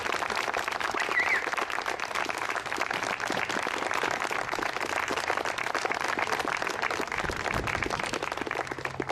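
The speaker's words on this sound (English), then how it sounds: "Let's give them all a big round of applause." An outdoor crowd at a Civil War encampment and tableau program applauds continuously, dense steady clapping lasting around nine seconds without a break.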